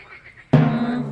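A frog croak in a children's colour-learning lesson: one sudden, loud, buzzy croak that rises out of near silence and holds for about half a second.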